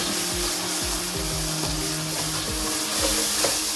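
Whole spices sizzling and frying briefly in a hot pan for daal mash, a steady crackling sizzle with repeated stirring strokes scraping through, close and continuous without any voices.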